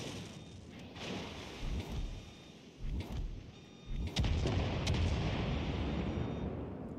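Naval artillery fire from World of Warships Legends: several muffled booms come at irregular intervals, followed by a dense, sustained rumble of distant gunfire and blasts.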